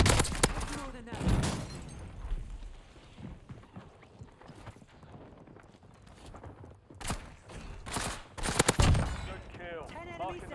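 Rapid nailgun shots in Call of Duty Warzone on Rebirth Island, firing in sharp bursts of several loud cracks amid other gameplay gunfire and effects, with talk running alongside.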